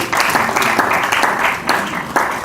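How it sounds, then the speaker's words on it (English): A short burst of crowd clapping from an audience at a motivational talk, loud and close, with uneven bursts over roughly two seconds. "So for those who pay, bless you, a round of applause."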